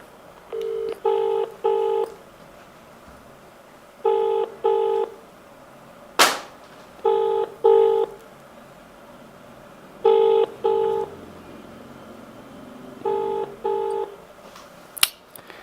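Telephone dialing tones while a phone call is placed, several groups of two or three loud, clean beeps separated by pauses, with a couple of sharp clicks between them and no talking.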